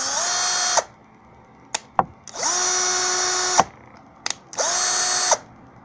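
A cordless drill-screwdriver from AliExpress runs in three loud, close bursts of about a second each, with clicks between them as the direction is switched. The motor whine stays steady during each run.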